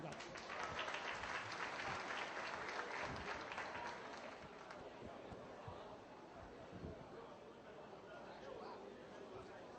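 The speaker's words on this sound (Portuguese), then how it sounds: "eu peço uma salva de palmas, gente" Sustained audience applause welcomes Dr. Ademir Calegari at a talk on cover crops and soil bioactivation, dense and steady for about ten seconds, gradually thinning, with crowd chatter mixed underneath.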